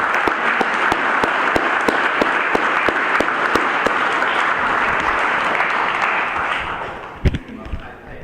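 Audience applause at a Fort Saint Anne 350th anniversary ceremony, a full steady wash of clapping with a few distinct nearby claps, fading out near the end, where a short thump and movement noise follow.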